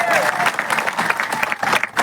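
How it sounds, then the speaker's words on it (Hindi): A crowd at a protest rally breaks into loud, dense clapping close by, sustained for a couple of seconds with scattered voices mixed in. "ताली बजा रहे इसका मतलब है कि समर्थन दे रहे हो"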